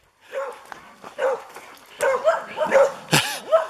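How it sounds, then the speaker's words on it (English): Several leashed dogs at a walk-in campsite at Hunts Pond, New York, give a run of excited barks and whining yips close by, irregular and loud, with a person's voice briefly mixed in. "You got a few dogs."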